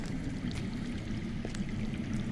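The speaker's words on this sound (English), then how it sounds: "That's water. I hear water. From underground." Underground water flows in a Game of Thrones video game scene, a continuous low, murmuring rush that stays even and unbroken with no voices over it.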